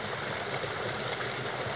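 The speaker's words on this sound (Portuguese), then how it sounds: "A água está levando até galho de madeira" Rain-swollen stream in Ponto Novo with a strong current carrying wooden branches, a steady close rushing wash of water with no talk.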